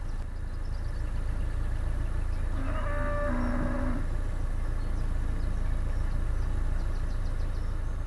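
Cattle in a field beside the Oxford Canal on a hot day give a single drawn-out moo in the middle distance, heard alone over a steady low background rumble.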